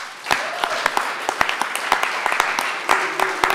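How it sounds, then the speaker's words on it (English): Audience at an entrepreneurship networking event clapping for a speaker, a loose scatter of sharp hand claps over a steady crowd wash, moderately loud and close. "now a big applause for Erit"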